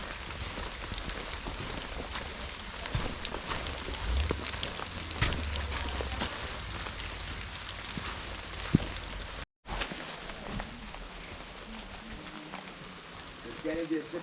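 Rain falls during a motorcycle ride on a trail leading to a cave near Ibitipoca, a constant broadband hiss with rumbling motion underneath, briefly cut off near the end and then resuming.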